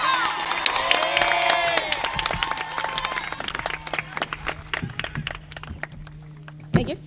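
Applause and cheering fill the hall at a high school graduation ceremony, as a crowd claps loudly at first and then fades into scattered claps, a few shouts and thuds.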